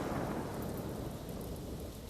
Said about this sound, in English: The sound of thunder made the ground shake.